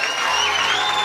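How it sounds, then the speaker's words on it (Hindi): Worshippers at a Hindi-language church service on inner healing and deliverance clap together steadily and continuously, with crowd noise and cheering mixed in, loud and close throughout. "सभी लोग ताली बजा कर आराधना"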